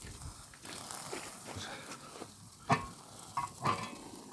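Chicken stew with medicinal herbs cooks in a cast-iron pot over a wood fire, giving a quiet, steady bubbling hiss broken by a few sharp crackles near the end.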